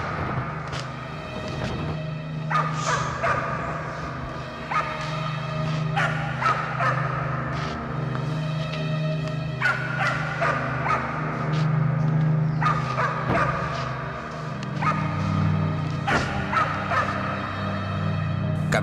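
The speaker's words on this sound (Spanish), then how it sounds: "se percató de los ladridos del perro guardián de la finca" A farm's guard dog barks at night in repeated bursts and yips, at moderate distance over a steady low background hum, with no one talking.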